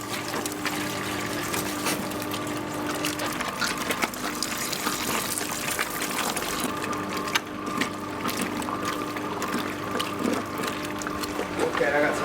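A dough mixer for Neapolitan pizza runs steadily at first speed while cold water pours in, giving a continuous churning, sloshing hum with a faint rhythmic clatter.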